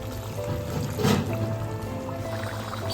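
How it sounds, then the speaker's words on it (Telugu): A glass of water poured into simmering chicken curry, a brief close splash and trickle over the steady sizzle of the pan. "సూపు కావాలంటే 1 గ్లాసు నీళ్ళు పోసుకొని"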